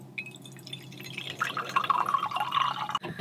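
Coffee drips and trickles into a cup as it brews inside a stealth camping van, a soft steady liquid patter that swells slightly toward the end.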